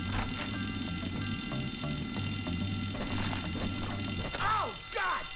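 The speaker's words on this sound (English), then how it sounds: "Then let's pull the fire alarm." A school fire alarm rings inside the video game Bully Scholarship Edition, a steady loud pulsing ring running throughout amid game background noise, with a couple of brief voice-like sweeps near the end.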